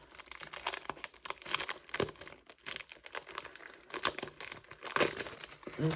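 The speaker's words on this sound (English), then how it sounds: "Sorry for the crinkling noise." Plastic wrapping crinkles and crackles in irregular bursts at close range, with sharp rustling peaks throughout.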